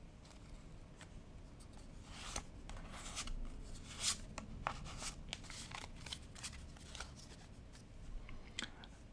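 Playing cards are handled close up and quietly: soft scattered snaps, riffles and slides of the cards over a faint steady background hiss, with no voice.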